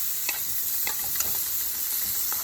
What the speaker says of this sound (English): We're using those to caramelize our onions and jalapenos.